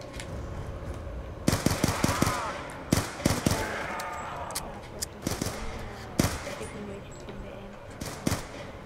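Video game gunfire crackles in quick bursts and single shots, some rapid like automatic fire, over a steady game soundscape with faint talk in the background.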